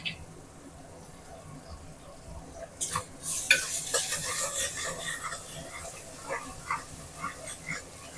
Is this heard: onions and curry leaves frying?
yes